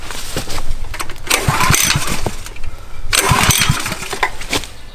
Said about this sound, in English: So I just turn it on, hit the choke, put it at half throttle.